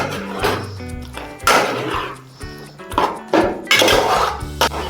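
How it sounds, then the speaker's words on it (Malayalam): Mango pieces stirred in thick jaggery syrup in a pan, giving repeated scraping clinks of a spoon against metal in irregular bursts, close and fairly loud, with no talk. "ഇനി വീണ്ടും നന്നായിട്ടൊന്ന് ഇളക്കി കൊടുക്കുക ആ ശർക്കര പാനിയിൽ കിടന്നതൊക്കെ"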